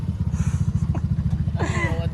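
A child's toy motorbike rides inside a hotel, its motor giving a steady pulsing putter up close, while voices talk over it.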